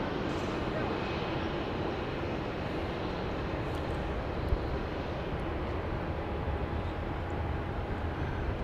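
A NetJets Embraer Phenom 300 business jet arriving at Dallas Love Field gives a steady, broad engine roar that holds at an even level throughout, with a faint voice in the background.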